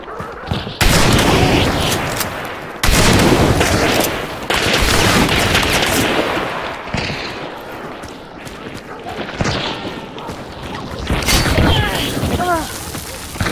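Rapid bursts of video game gunfire and booms come in loud, repeated volleys, with players talking over and between the shots.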